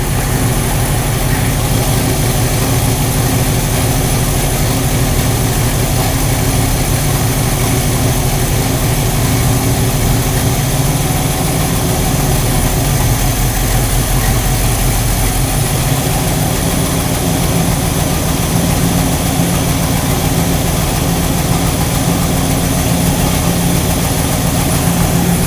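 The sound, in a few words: 1969 Chevy engine idling during timing adjustment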